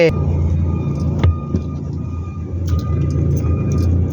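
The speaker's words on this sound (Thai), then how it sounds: "ขับรถลุยเข้าไปในเมืองขอนแก่น" A car drives into Khon Kaen city in daytime, its steady engine rumble and road noise continuing throughout with a few brief knocks, while someone talks over it.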